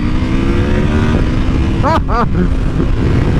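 A 2024 KTM 890 SMT motorcycle runs hard in second gear, loud wind rush and engine drone from onboard, with two brief rising whine bursts near the middle.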